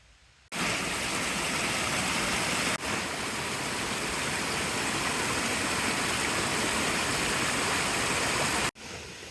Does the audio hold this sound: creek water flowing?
yes